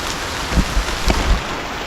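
Steady rain falls hard and close, a dense continuous hiss with a few heavier drops or thumps standing out, and no voices.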